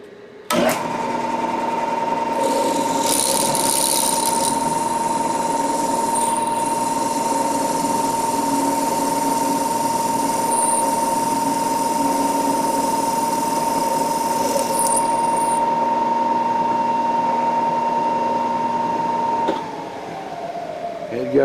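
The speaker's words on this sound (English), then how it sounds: "We're going to drill the first hole right there." A lathe spindle drill bores a hole during a lathe wheel replacement, running as a steady, loud mechanical whine with a constant hum that holds evenly for about twenty seconds before stopping abruptly.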